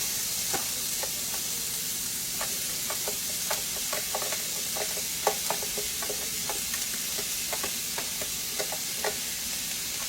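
Chopped onion, one large one, sautéing in a pan for chicken pot pie, with a steady broadband sizzle and scattered clicks and taps of stirring, moderately close, no talk.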